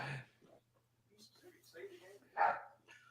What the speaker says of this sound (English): that means my dogs are barking